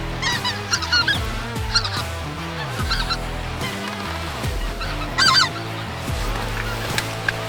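Geese and ducks honk loudly and repeatedly during a waterfowl hunt, a dense overlapping chorus of calls rising in bursts throughout, fairly close and continuous.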